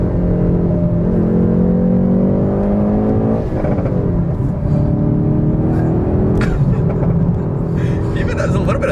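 A Hyundai Veloster N engine drones loudly from inside the cabin during a drive, its pitch dropping and then climbing again as the car shifts from third down to second.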